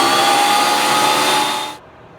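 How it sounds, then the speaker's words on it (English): A Shop Fox W1877 machine powers up for its first run, giving a loud, steady, high-pitched motor whine with a bright tonal hum that cuts off abruptly and falls to quiet. "Do our first startup of the machine. Let it run a moment and hopefully seat the brushes."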